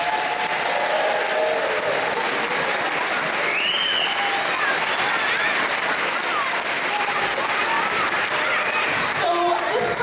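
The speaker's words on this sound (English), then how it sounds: "So a big round of applause for our grade ones and twos." Parents and family give warm, continuous applause at a school Christmas concert for grade one and two pupils, a full room of clapping with some cheering and children's voices mixed in.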